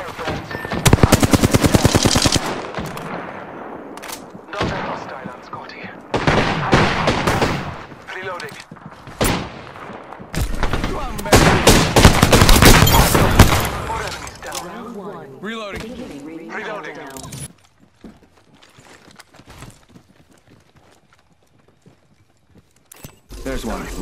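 Bursts of video game gunfire and machine-gun fire in a combat match, loud and repeated in clusters over the first half before thinning to scattered shots, with game voice callouts mixed in.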